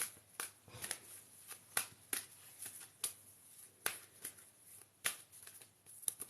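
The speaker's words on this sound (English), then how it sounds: "Let's shuffle these cards." Tarot cards shuffled by hand in a quiet room, a soft irregular series of riffles and taps recorded close and faint.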